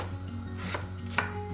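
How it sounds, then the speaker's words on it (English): A knife chopping a big onion, a couple of sharp close taps against the board over a low steady kitchen hum, with no voices. "I'm gonna cut 1 big onion"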